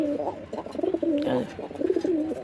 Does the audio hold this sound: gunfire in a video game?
no